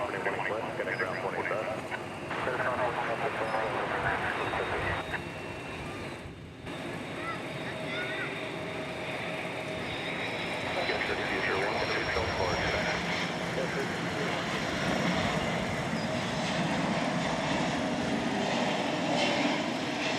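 An Iberia Airbus A330-300 on arrival from Madrid roars steadily toward a runway at DFW airport, its broad jet-engine drone swelling and holding loud over about twenty seconds, with faint talk beneath.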